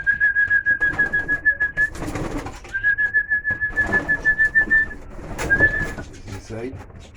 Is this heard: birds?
yes